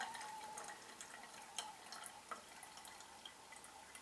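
Water from a gravity-fed filtration system trickles and drips into a handheld bottle, a quiet steady patter of small drips running throughout, close up.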